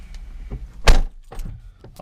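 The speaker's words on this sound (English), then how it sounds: "I'll close the door." The door of an Alfa Romeo 4C sports car is shut with a single solid thump, preceded and followed by softer handling knocks, close up and fairly loud with no talking.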